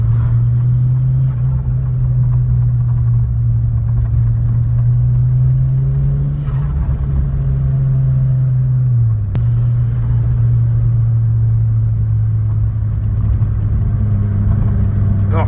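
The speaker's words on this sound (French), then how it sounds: "on peut écouter le bruit de la ligne que j'ai faite sur mesure" Fiat Seicento fitted with a 1.2 Fire turbo engine and a custom-made exhaust idles loud and close, with a steady low rumble that rises in a light rev and settles back.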